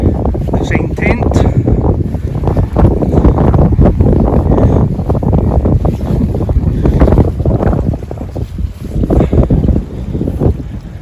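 Strong storm wind battering a Hilleberg Nallo 2 tunnel tent pitched while wild camping during Storm Babet. The roar is loud and continuous, gusting and buffeting close to the microphone, with someone talking over it.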